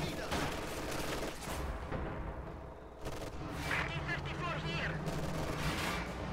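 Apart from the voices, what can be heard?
heavy machine gun fire in a World War II video game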